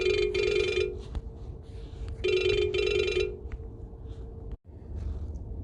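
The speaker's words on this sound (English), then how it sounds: "Sorry about the phone call in the middle of this." A telephone rings in repeated bursts, two long electronic ring trains separated by a pause, fairly loud and close, with a brief clunk near the end as if the handset is picked up; no speech.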